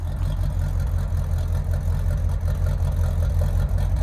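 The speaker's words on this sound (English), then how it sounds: "This sounds like a Corvette." A 1981 Corvette engine idling through its exhaust, a loud, steady, low rumbling burble heard close up with no talk.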